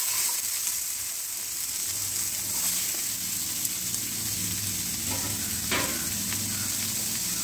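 Chopped tomatoes and onions sauté in a hot frying pan with a steady, close, crackling sizzle that runs throughout, with occasional faint stirring scrapes and no voices.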